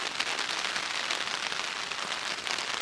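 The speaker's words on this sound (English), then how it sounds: "that's about 2 hours of rain so far, and it is literally falling straight down" Steady rain falls straight down onto an Asta Gear Yun Chuan 2 tent during wild camping, a dense, even patter that stays close and constant throughout with no voices.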